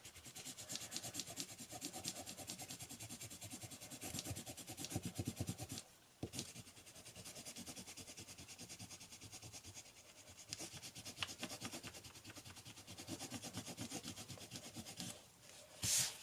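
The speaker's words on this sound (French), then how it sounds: "je vais gommer avec vous" Steady rubbing strokes of an eraser worked back and forth across paper, close and continuous, with a brief pause near the middle and a slight scrape at the end.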